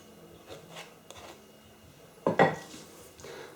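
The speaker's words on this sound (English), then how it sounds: "Now let's just put the rest of that sort of chocolate mixture on top to give it a topping. Just scrape the spoon." A spoon scrapes chocolate cake mixture onto a cake, giving one short, sharp scraping clatter amid quiet kitchen handling, with faint light taps before it.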